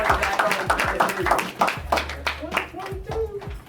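Interns at an internship graduation clap for themselves, a steady patter of hand claps filling the room while voices talk over it.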